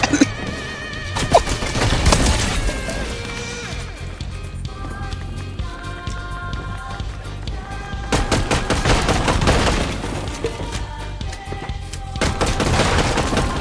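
Rapid gunfire in the Fortnite-style shooter game, in Reload mode, bursts of automatic shots and repeated cracks recurring throughout, loud and close, with game effects layered around them.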